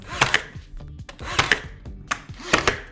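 Sharp wooden knocks from nailing trim around fireplace tile, arriving in three quick bursts of two or three hits each, close and fairly loud with no talking.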